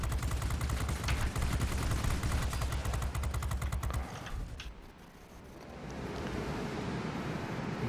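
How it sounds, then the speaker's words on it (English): Rapid bursts of heavy cannon fire from the four 20mm tail cannons of an Su-10 bomber in World of Warplanes hammer out for about four seconds, then stop abruptly, leaving a low rumbling wash. "This thing has 4 20mm cannons it can bring to bear against the enemy."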